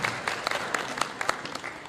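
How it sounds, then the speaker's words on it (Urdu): An audience at an Urdu poetry gathering claps in steady applause, a dense patter of hand claps with a few sharper near claps, sustained and alone without talk. "ان کے لیے تالیاں آپ بجائیں"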